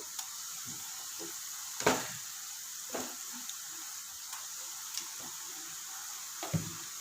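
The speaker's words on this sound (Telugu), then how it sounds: "ఇప్పుడు అల్లం ఎల్లిగడ్డ పేస్ట్ ఉల్లిగడ్డ ముక్కలు వేయినాయి" Onions and ginger-garlic paste fry in a pan with a steady soft sizzle, punctuated by occasional stirring clacks and scrapes close by.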